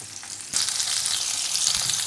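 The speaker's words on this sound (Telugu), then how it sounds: "కొద్దిగా వాటర్ వేసి ఉడకబెట్టుకుందాం." Water is added to a hot pan of spinach, and a sudden loud hiss breaks out and keeps sizzling steadily close by.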